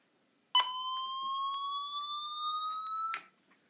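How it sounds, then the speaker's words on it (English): A weather radio gives a steady high-pitched electronic alert tone, a higher version of the WR10 siren, sounding alone for about three seconds, rising slightly in pitch, then cutting off into silence. "It's basically a high-pitched version of the WR10 siren. I'll do a little test real quick."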